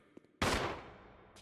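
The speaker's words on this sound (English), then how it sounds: "Both hear a gunshot from one side of the mansion" A single sharp gunshot echoes through a mansion in the Resident Evil video game, a loud sudden blast following faint quiet ambience and trailing off into a decaying reverberant tail.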